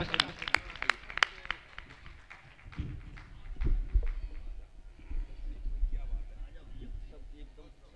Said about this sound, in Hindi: एक बार जोरदार तालियों के बीच डॉक्टर प्रसाद देव मिश्रा